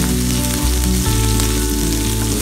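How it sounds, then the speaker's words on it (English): Ginger garlic paste hitting hot melted ghee in a pan, a dense, loud, continuous sizzle close up, with no voices over it. "Now once my ghee is melted, I'm gonna add freshly grounded ginger garlic paste."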